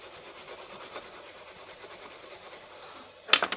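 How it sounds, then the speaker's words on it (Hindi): Cleaner being scrubbed into a phone charging port, a soft rapid rhythmic rubbing and rasping at close range, faint and steady, ending with a few sharper handling clicks. "अब इसमें हम क्लीनर डालेंगे और इसको क्लीन करेंगे"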